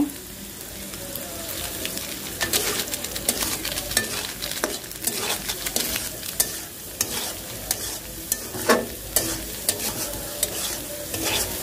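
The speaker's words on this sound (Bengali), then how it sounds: "ডিম দিয়ে মরিচ দিয়ে একটু ভালোভাবে নেড়ে নেড়ে ভাজতে হবে।" Egg and chili for noodles stirred and fried in a pan, a steady sizzle broken by frequent irregular scrapes and clanks of a spatula against the pan.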